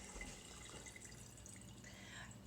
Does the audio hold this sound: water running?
yes